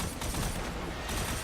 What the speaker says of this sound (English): this hand cannon is good in medium range